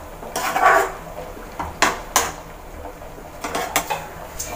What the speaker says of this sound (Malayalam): ജസ്റ്റ് ഒന്ന് ഇളക്കി കൊടുക്കുക.